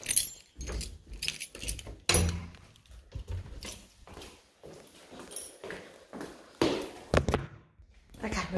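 Keys jangle and click in bursts as someone tries one key after another in a house door, with brief speech between the metallic rattles.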